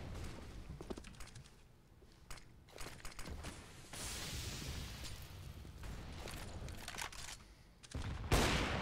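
In a CS-style competitive shooter match, a grenade explosion booms into a sustained roar, ringed by rapid bursts of gunfire that swell again near the end, loud with no voices over it.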